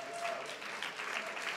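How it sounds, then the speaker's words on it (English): A church congregation at a noon Bible study claps in praise, a soft, fairly quiet spatter of hands heard from a distance, brief and steady. "Give him a hand clap of praise."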